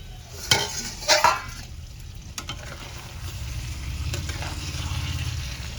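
Chicken curry sautéing in a pan after sugar and salt go in, with two loud metallic scrapes of a spatula early on, then a steady low sizzle and bubbling that builds toward the end.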